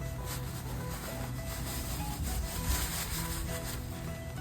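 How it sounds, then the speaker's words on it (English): A screed stick scrapes and smooths sand along a paver path bed, giving a steady, close gritty rubbing and swishing that runs continuously without pause. "we're just going to use our screed stick and smooth everything out"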